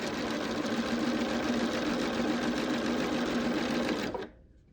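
A sewing machine stitches bias binding in a fast, even mechanical whir that runs steadily and then stops abruptly near the end.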